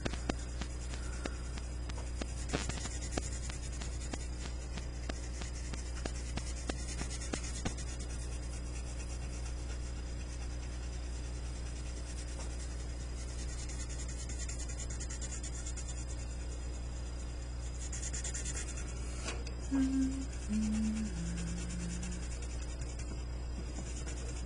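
Colored pencil shading a map of medieval Europe on paper: a soft, continuous scratchy rubbing with brief taps and strokes, quiet and close, over a faint background hum and without talk.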